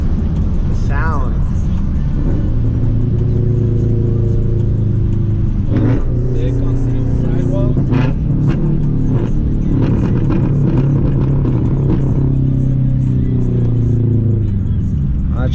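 A Subaru BRZ running on E85 revs from inside the cabin with the windows down, its engine rising and falling in loud, sweeping pitch with a few sharp exhaust pops, while people talk over it.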